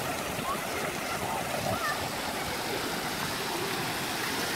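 Water from the Benje thermal springs in Albania flows steadily over stacked stones in a stream, a dense, continuous rushing wash that is close and unbroken, with no clear talk.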